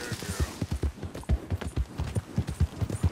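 A horse's hooves clip-clop at a steady, even trot in Red Dead Redemption II, close and clear, with the regular rhythmic beats running through the whole stretch.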